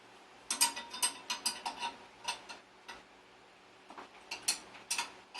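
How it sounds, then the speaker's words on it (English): A 14mm ratcheting wrench clicks in quick, uneven bursts of sharp ticks while loosening a bolt on the engine mount of a 1976 Honda Elsinore MR 250 motorcycle, close but quiet, with no talk. "Let's get a 14mm wrench here. Loosen this up."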